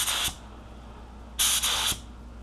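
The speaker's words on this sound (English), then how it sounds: "let's tighten up the spray pattern just a little bit" Two bursts of spray gun hiss applying clear coat, a short one then a longer, louder one broken by a brief pause, with quiet between.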